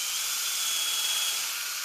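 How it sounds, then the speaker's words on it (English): A pocket hole drill bit bores into a wooden table surface for a shooting bench, giving a steady, continuous high-pitched hissing whine at moderate level with no talking. "I'm using a pocket drill bit"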